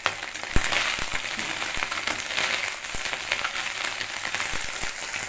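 Pona fish frying in oil in a pan, a steady dense sizzle and crackle with occasional soft clicks of turning or stirring, close and continuous with no talking.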